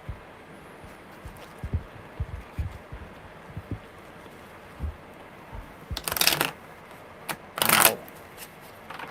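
Tarot cards riffle in two short, crisp bursts toward the end, after scattered soft taps and handling noises in a quiet room.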